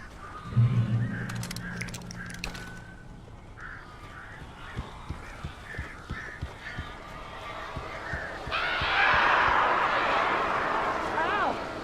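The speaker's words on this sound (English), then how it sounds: "These birds are weird." Crows cawing in the Alan Wake video game, a scatter of harsh calls over a busy game soundscape, with a louder burst of noise near the end and people talking through much of it.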